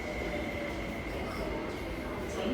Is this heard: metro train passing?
yes